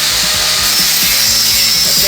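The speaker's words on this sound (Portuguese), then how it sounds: "agora ele vai passar a esmerilhar da forma correta" An angle grinder, held perpendicular to a weld seam, grinds the bead down in a loud, continuous, close-up rasping whine with rhythmic gritty pulses as the disc bites into the metal.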